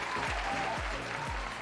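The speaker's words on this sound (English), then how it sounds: "the canned round of applause YouTube clip" A short canned round of applause plays steadily, with dense clapping over a low thumping beat repeating about every half second.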